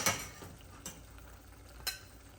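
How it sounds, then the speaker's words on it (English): Cooked chicken is lifted from a skillet onto a plate, with a couple of light utensil clinks and scrapes over a faint sizzling background, close but soft. "I'm just gonna go ahead and get it out of our skillet and onto this plate"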